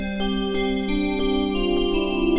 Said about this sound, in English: So for my third sound, I'm going to use this nice lead sound.